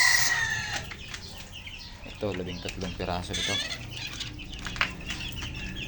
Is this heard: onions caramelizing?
no